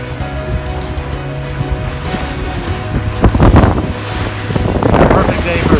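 Sailboat under way with both sails up at about six knots in ten to eleven knots of wind, with constant wind buffeting and waves splashing against the hull, rising louder near the end.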